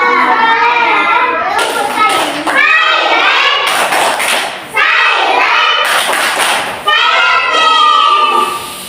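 Young children chant loudly in unison, breaking into sharp rhythmic claps and thumps between sung phrases, close and energetic, in a repeating clapping-game pattern performed in a school group.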